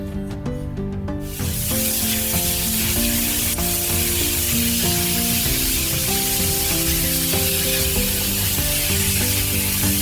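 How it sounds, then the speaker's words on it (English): Pork for Korean spicy jeyuk bokkeum, started in a cold pan over medium-high heat, breaks into a loud, steady broadband sizzle after about a second and keeps hissing under prominent background music. "So from a cold pan, you want to add your pork. Turn on your heat on a medium high."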